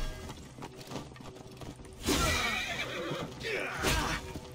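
A horse in Assassin's Creed Origins gives a loud, shrill neigh about halfway through, followed by a second whinny near the end, heard close over faint background noise.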